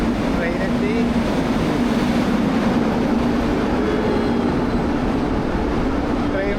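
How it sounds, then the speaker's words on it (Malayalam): A train rolls steadily into a railway station, a continuous low rumble and mechanical hum holding at a constant, fairly loud level with no break, with no voices. "ട്രെയിനെത്തി."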